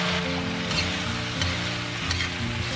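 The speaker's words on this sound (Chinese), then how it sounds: "一般我做的焖饭都喜欢把这个大米给它炒一炒，然后再下去焖，会比较香一点。" Soaked, rinsed rice is stir-fried in a hot pan with baby pumpkin, salt, soy sauce, dark soy and cooking wine, giving a loud, continuous sizzle with steady scraping stirs close up.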